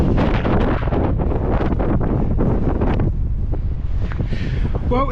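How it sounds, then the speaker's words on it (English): Strong wind gusts buffet the microphone with a loud, continuous roar that eases slightly toward the end, heard outdoors on a cycling ride with no voices. "every now and then there is a strong gust"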